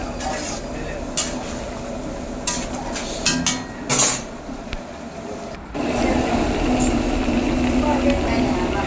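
Special chicken curry being stirred in a cooking pot, with a soft continuous sizzle and scattered scraping and clinking of a spoon against metal, close and steady with no clear voice.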